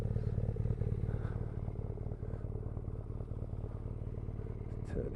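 A BMW R nineT Urban GS motorcycle on its standard exhaust with the stock catalytic converter idles with a steady, close, throbbing low engine beat and light mechanical clatter.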